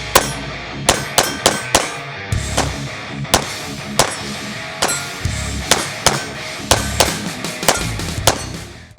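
An FN 509 pistol fires about fifteen sharp, loud shots in an uneven, steady string after a sand and clay torture test. The reports ring out close and alone, with no talking.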